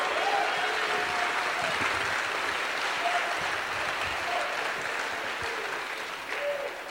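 Steady audience applause at Hackcon IV during the state-of-the-league address, an even, moderately loud roar of many hands clapping that runs for seven seconds, with a few faint voices and whoops mixed in.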